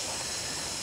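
A camping gas burner hisses right after being turned on, a steady close broadband rush with no other sound.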